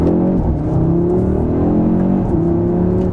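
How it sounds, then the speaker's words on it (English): A 2022 Audi RS3 with the optional sport exhaust pulls hard from inside the cabin, its engine and induction note rising in loud, smooth revving sweeps that drop briefly at each gear change, with no talk over it. "I am really just hearing induction sound and exhaust sound"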